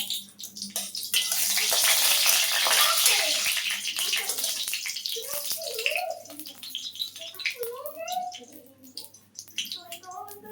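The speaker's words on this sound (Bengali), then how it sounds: "শুকনো লঙ্কাগুলো একটু ভাজা ভাজা হয়ে গেছে" Dried red chilies frying in mustard oil in a wok give a loud, dense sizzle for several seconds that eases off, with a voice talking over the later part.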